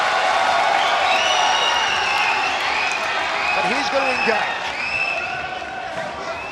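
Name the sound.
crowd cheering at a Muay Thai fight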